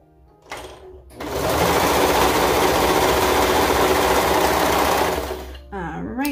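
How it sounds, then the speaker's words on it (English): A serger stitches the crotch seam of a leotard in a fast, loud, steady whir for several seconds, starting and stopping abruptly, with brief talk and handling noises before and after. "So then you're gonna serge right here on the crotch part."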